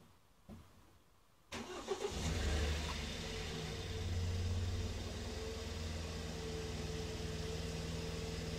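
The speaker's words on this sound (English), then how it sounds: "start the engine please" A BMW engine with an injector fault cranks and fires after a quiet pause, then settles into a steady, fairly loud idle close by.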